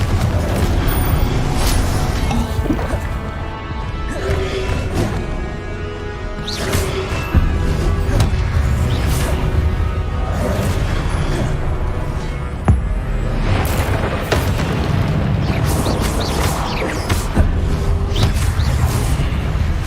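Confringo spell blasts from Hogwarts Legacy burst out repeatedly with sharp booming impacts over continuous game music and ambience, several loud hits spread across the stretch.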